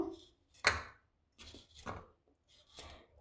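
A knife finely chops ingredients on a cutting board for a homemade hair-growth remedy, making a handful of sparse, quiet chops with brief pauses between them and no talking.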